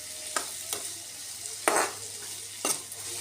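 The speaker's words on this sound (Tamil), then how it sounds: "அது கூடவே கொஞ்சம் முருங்கைக்கீரை ஓகேங்களா லைட்டாக போட்டு நல்லா வதக்கிக்கலாம் ஓகேங்களா." Drumstick flowers and leaves sautéing in a pan give a steady low sizzle, broken by four short scraping stirs spaced about a second apart. No one speaks.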